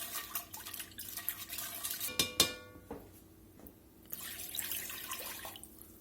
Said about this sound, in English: We're gonna need to get some water in here.